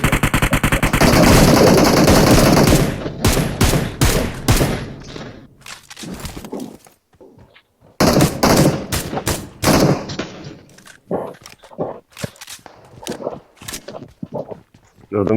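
Automatic gunfire in PUBG Mobile on the Miramar map, loud dense bursts of rapid shots broken by short pauses, followed by scattered single shots and quieter stretches.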